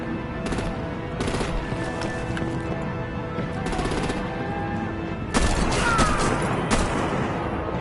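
Bursts of gunfire in Batman The Enemy Within, repeated rapid volleys with sharp cracks that intensify toward the end, loud and close, with faint voices mixed in.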